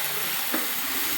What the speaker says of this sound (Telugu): ఇది ఇట్లా మనం కొంచెం ఆయిల్ ఎక్కువ పోసుకొని మంచిగా దగ్గరగా ఫ్రై చేసుకుంటే